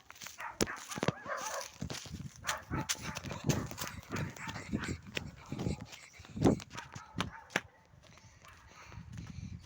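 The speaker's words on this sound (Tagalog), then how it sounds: "Ingay ng aso!" Several sharp dog barks ring out at irregular intervals amid clattering footsteps and background noise, fairly close.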